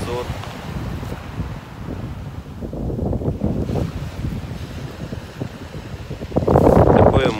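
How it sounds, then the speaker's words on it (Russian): Sea waves wash onto the beach at Tuapse under gusty wind buffeting the microphone, with someone talking throughout and a louder rush of surf near the end. "Такое море сегодня."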